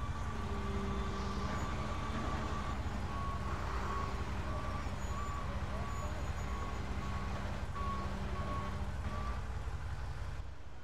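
A truck in the EmergeNYC video game reverses with a steady series of evenly spaced electronic beeps over a constant low engine rumble, moderately loud and continuous, with faint talk underneath.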